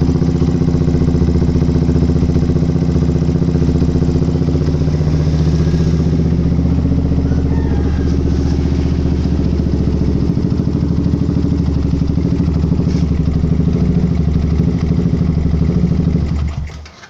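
A Yamaha Vixion motorcycle engine, checked at a workshop with an ignition contact fault, idles loud and close with a steady mechanical clatter, then cuts off at the very end.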